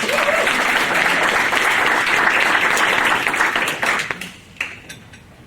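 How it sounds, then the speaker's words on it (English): An audience at an employer recognition event giving a round of applause, full crowd clapping at steady volume that thins into scattered last claps and fades out near the end. "so let's give them a round of applause."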